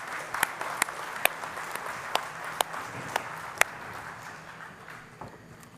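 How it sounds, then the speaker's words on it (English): Sparse, faint applause from the audience at the Assembly of First Nations Annual General Assembly, with scattered individual claps spread over several seconds in a large hall. "maybe we can give them another round of applause"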